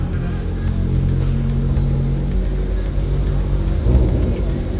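Several Mazda Miata race cars rolling through a parade lap at a Spec Miata press event, a steady loud engine drone and low rumble with a slight surge near the end.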